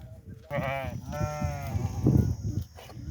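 Goats and sheep bleat several times in a rural village at evening, clear harmonic cries close by with some background murmur of voices.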